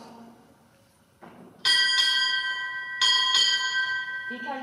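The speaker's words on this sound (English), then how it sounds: "Boats line your strike four bells." A ship's bell is struck four times at a naval JROTC ceremony, two quick pairs of bright ringing strikes that ring on. A voice speaks briefly before the first pair.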